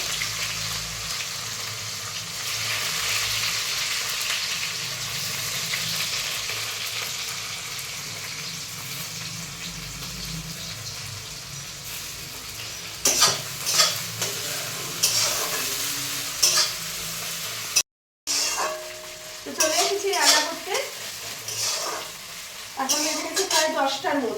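Chicken frying in mustard oil in a kadai, with a steady close sizzle and the scrape of stirring building into clattering stirring strokes in the latter half.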